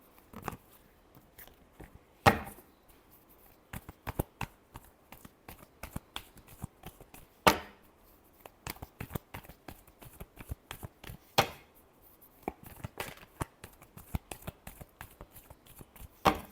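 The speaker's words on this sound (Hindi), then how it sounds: "Last shuffle." Tarot cards are shuffled in irregular bursts of sharp, close riffling and snapping taps, scattered across the span with brief quiet gaps between handfuls, in a quiet room.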